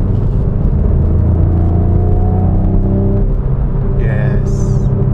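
A Hyundai Veloster Extreme Driving Edition on the move gives a loud, steady engine drone with a rising whine, heard from inside the car, with a brief higher squeal near the end.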